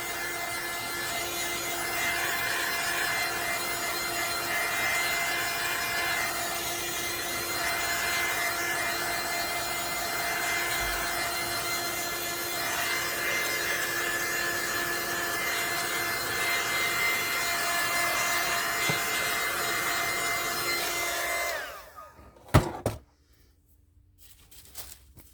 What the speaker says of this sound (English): Yes, that dryer sort of melts the wax a little bit